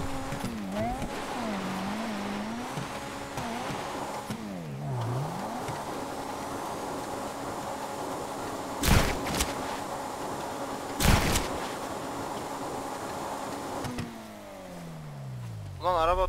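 A car in Grand Theft Auto V drives and revs, engine pitch rising and falling through shifting tones, with two sharp impact thumps midway and a final rising rev near the end; no speech during the engine noise.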